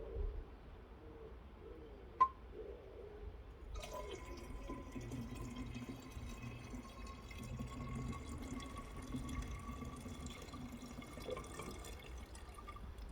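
Liquid from gold refining of rolled gold watches poured steadily into a waste container, a continuous close trickle and splash beginning after a sharp clink and running to the end, no talk.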